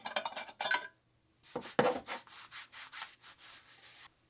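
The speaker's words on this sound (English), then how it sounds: "We're going to start out with some of this plastic parts cleaner. Just take a rag, wipe it down." A rag dampened with plastic parts cleaner is rubbed over a small plastic car interior panel, making close, soft swishing strokes in a steady back-and-forth rhythm after a few initial scrubbing sounds.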